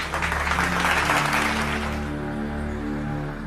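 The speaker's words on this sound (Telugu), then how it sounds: "Big claps to Akash." Steady applause from a group clapping for a student who came first in college, a dense continuous wash of claps that fades slightly toward the end.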